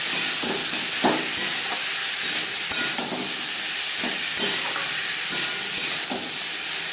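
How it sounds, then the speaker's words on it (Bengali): Potatoes fry in a pan with salt and turmeric, a steady close sizzle with the soft scrape of periodic stirring strokes on top, and no voices. "লবণ হলুদ দিয়ে আলু ভেজে নেব"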